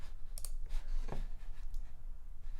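Computer mouse clicks while saving in Webflow, a few soft, close clicks scattered over faint background hum, with no talk.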